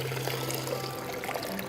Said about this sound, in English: I place the sprouting lid on, and then I simply drain the water off by inverting the jar